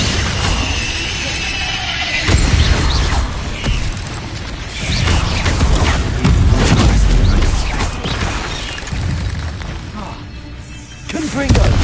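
Confringo blasting spell explosions in the Hogwarts Legacy video game, several loud booming blasts and crashes over about twelve seconds, with game effects between them.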